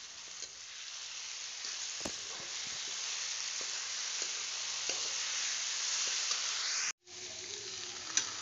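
Ground mustard going into a pan of frying drumstick and potatoes, a steady close sizzle and hiss that keeps up throughout, broken by one brief sharp drop near the end and a few light clinks.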